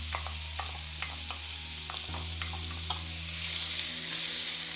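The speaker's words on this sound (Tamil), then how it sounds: "வெங்காயம் நல்லா வதங்கட்டும்." Two finely chopped large onions sauté in oil in a pan, giving a steady close sizzle with intermittent spoon scrapes and clicks over a low hum.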